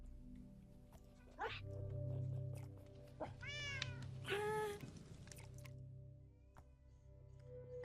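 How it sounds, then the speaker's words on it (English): A pet cat meows several times in the background, short rising and falling cries with quiet pauses between them. "I would apologize for my cat in the background"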